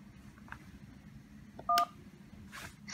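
A single short DTMF keypad tone from a key pressed on a Polycom VVX300 desk phone, a brief clean beep standing alone over low background hiss.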